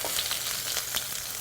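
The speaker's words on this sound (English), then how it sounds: "Now when they start to crackle like this, add your freshly minced green chilies." Cumin seeds crackle and sizzle in hot frying oil while Indian food is cooked, a steady dense hiss with scattered sharp pops, close and fairly loud throughout, with no talk.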